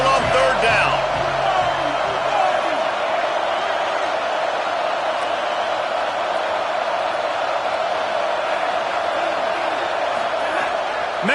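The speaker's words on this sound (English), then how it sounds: "Here comes his home crowd as the defense tries to get off the field on 3rd down." Sustained roar of a home crowd at a Miami versus Notre Dame college football game, loud and continuous throughout as the defense faces third down, with a thud early on and talk mixed in.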